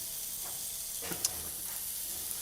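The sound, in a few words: prawns and chorizo dry frying in pan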